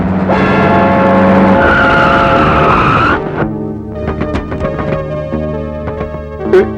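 In a movie scene, a car brakes hard and skids to a stop with a loud, sustained tire squeal lasting about three seconds, then a rumbling engine settles with scattered clunks and knocks.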